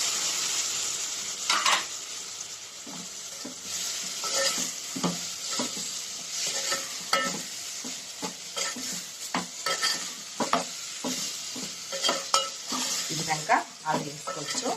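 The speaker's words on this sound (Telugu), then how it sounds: "ఈ టమాటా ముక్కలు వేసేసుకుందామండి." Tomato pieces tossed into a hot pan for a homemade soya bean curry, sizzling steadily as a spoon stirs and scrapes, with frequent sharp clinks against the metal and no talk.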